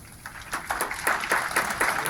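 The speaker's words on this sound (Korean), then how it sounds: "다시 한번 힘찬 박수로 감사드립니다." A church lecture audience breaks into applause, a crowd's clapping that swells quickly and stays steady over a couple of seconds.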